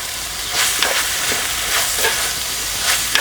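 Onions, green peas and turmeric fry in a pan for hotel-style poori kurma, hissing with a loud steady sizzle while a spoon stirs them in repeated scraping strokes, close up and without voices.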